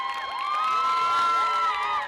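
A crowd cheers as a choir wins the grand prize at a competition, high excited shouts and whoops rising and overlapping in a dense, loud burst with no talk.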